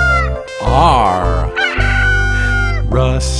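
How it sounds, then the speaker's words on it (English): A rooster crows loudly and close, one full cock-a-doodle-doo call with a rising and falling tone, ending with a brief higher squawk. "Rusty rooster,"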